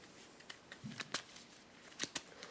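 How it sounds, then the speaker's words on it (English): Marvel United game cards being shuffled by hand, a sparse run of soft papery flicks and sharper snaps, close and quiet with gaps between bursts. "So I'll just shuffle these up."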